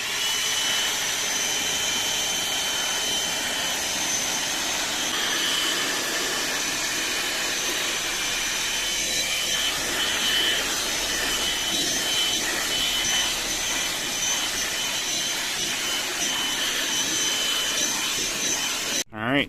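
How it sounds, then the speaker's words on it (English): A Bauer cordless vacuum cleaner runs continuously on a car seat, a steady close whine with slight changes in pitch as the nozzle works into the corners, ending with a short clunk. "Bauer cordless vacuum."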